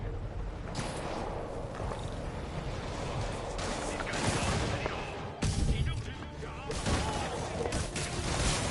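Gunfire and booming impacts in a battle against demons during the Spider-Man 2 video game, dense and continuous with heavier bursts near the middle and end, mixed with game voices.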